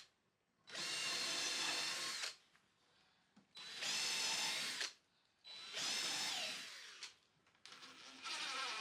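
A power drill boring screw holes into a wooden assembly bench whirs in four loud, close bursts of roughly one to two seconds each, with brief quiet pauses between them.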